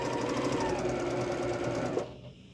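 A sewing machine runs a fast, even stitch along a row of pieced quilt blocks for about two seconds, close and steady, then stops abruptly and the room goes quiet.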